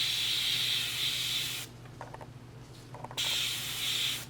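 An airbrush blows a steady, close hiss of air and paint spray onto a hand for testing, cuts out for about a second and a half with faint clicks from the trigger, then resumes the same hiss.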